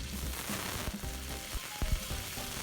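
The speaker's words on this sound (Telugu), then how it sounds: "వెల్లుల్లి కూడా వేసేసుకుని దీన్ని చక్కగా ఫ్రై చేసుకోవాలి" Quiet, steady sizzling of fenugreek seeds, garlic and other tempering spices frying in hot oil, with a few faint clicks and stirring sounds.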